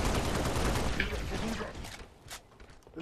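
Sustained automatic gunfire and explosions in the Halo: Reach Firefight mode, a dense loud barrage that fades into scattered shots near the end, with players talking over it.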